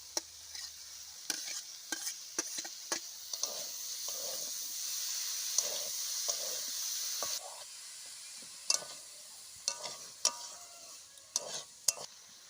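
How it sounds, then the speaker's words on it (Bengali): Boiled banana flower frying in a pan for Bengali mochar ghonto, a soft continuous sizzle and hiss under repeated clacking stirs of a spatula against the pan, close and irregular, no talk. "এবার সেদ্ধ করে রাখা মোচাটা দিয়ে দেব"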